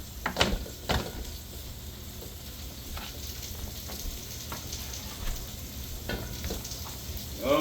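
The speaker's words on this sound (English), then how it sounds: "once I get my vegetable sauteing" Vegetables sauté in a pan with a steady, soft sizzle and crackle, with occasional louder pops and clicks of stirring or utensil contact, heard alone at moderate distance.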